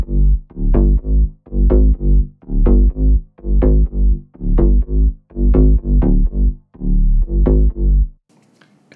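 House-music bass synth stabs glued together with bus compression repeat in a tight, steady rhythmic loop, a long run of loud, even hits that ends abruptly into near silence.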